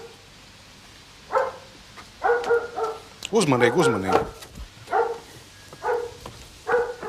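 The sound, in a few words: dogs barking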